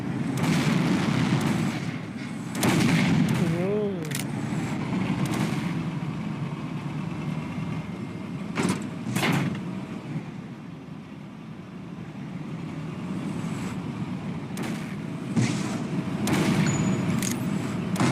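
Soviet T-72 tank cannon fire in a video game, several sharp booming shots spaced irregularly over a rumbling engine and battle background, loud and close.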